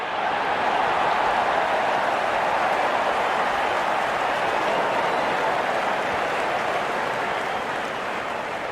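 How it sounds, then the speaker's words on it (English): Cricket crowd at a New Zealand versus South Africa Test match gives a steady, broad roar of jeering and noise from the stands, constant and distant, with no distinct voices standing out. "the crowd are jeering them on"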